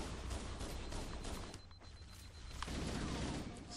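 Gunfire in the video game Halo, played in co-op on Legendary, as a dense, continuous barrage of shots with a few sharper bursts, loud and steady throughout.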